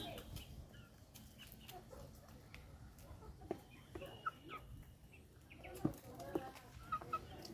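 Country chicken chicks cluck and peep softly around a farmyard, with scattered sharp calls and small knocks over a constant low background murmur.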